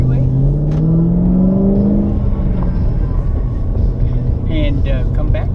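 A Ford Shelby GT500 drives off and accelerates, its engine note rising steadily from up close inside the car, with road noise throughout.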